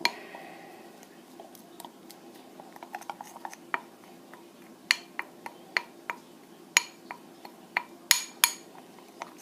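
Sourdough starter being stirred with organic red fife flour in a small container, a spoon tapping and clinking against the sides in sparse, irregular knocks, close and fairly quiet.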